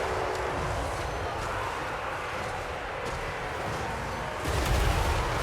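Artillery firing during a Total War: Warhammer 3 battle, as a steady dense rumble of distant booms and battlefield noise, with a louder low thump near the end.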